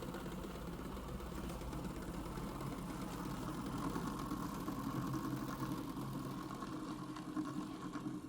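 Pulse motor with two bifilar coils spinning on magnetic levitation, run on 12 volts DC: a faint, steady low whirring hum with a fast rhythmic pulsing, like a small idling motor, unchanged throughout.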